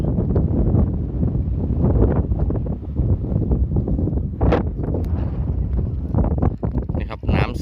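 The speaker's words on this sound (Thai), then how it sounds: "ลมแรงนิดนึงนะครับ" Strong wind gusts buffet the microphone on the rocks of Sam Phan Bok beside the Mekong River, a constant loud roar with rumbling bursts throughout and someone talking under the noise.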